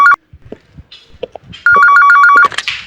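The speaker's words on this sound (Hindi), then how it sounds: "एसीपी साहब का फोन।" A telephone rings with a rapid, repeated electronic trill, loud and close, after a few soft clunks and rustles.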